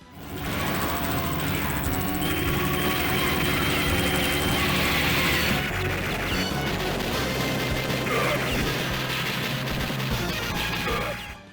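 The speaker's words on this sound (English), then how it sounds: "the final fight against Morden in his personal transport chopper, the smallest yet most agile boss in this adventure" Boss fight in the video game Metal Slug against Morden's small, agile personal transport chopper: loud continuous rotor drone mixed with dense gunfire, crashes and explosion bursts, no talk.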